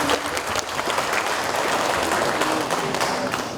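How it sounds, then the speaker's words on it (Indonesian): A crowd at a provincial government event in West Papua breaks into applause. Thick, sustained clapping fills the whole stretch at an even, loud level, with no pause or clear voice over it. "Mari kita tepuk tangan."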